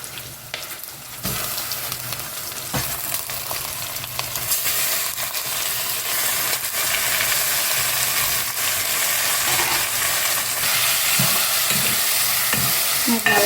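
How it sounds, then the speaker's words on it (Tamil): Chicken pieces tipped into a pan of well-browned onions for a chicken gravy, frying with a steady loud sizzle and stirring scrapes that build and continue throughout, with no talk. "வெங்காயம் நல்லா செவந்துருச்சு சிக்கன் எடுத்து போட்டுக்கோங்க"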